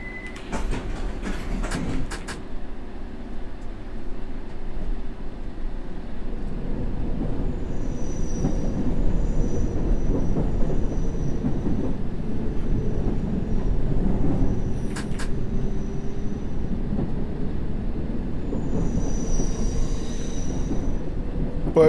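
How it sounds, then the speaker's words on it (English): A London Underground train in the World of Subways 3 game pulls away, a steady low rumble of rolling wheels and motor building and holding loud throughout, with brief high squeals and clicks early on and faint tonal whines later. "This train is ready to depart."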